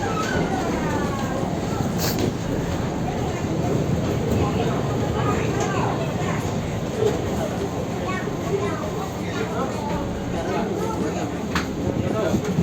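Commuter train pulling into Jakarta Kota Station, its steady rumble and rattle filling the carriage while people talk over it and a faint high whine hangs above throughout.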